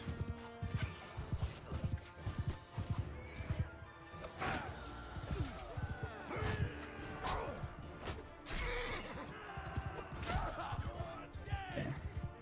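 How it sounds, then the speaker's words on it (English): A horse's hooves clatter and it neighs during a Bannerlord siege battle, with rhythmic galloping thuds mixed with clashing combat impacts and shouting, loud and busy throughout. "That was just a random horse."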